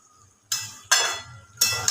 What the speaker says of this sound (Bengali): এবার আমি মাংসটাকে আর একটুখানি নাড়াচাড়া করে নেব